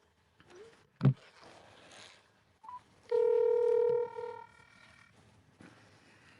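Numbers tapped on a phone keypad, giving a sharp click and then a held tone with a few shorter beeps, fairly close in an otherwise quiet room.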